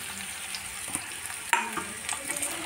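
Potatoes sizzling in oil in a pan with salt added for an aloo methi sabzi, a steady close frying hiss with occasional stirring scrapes and clicks of a utensil.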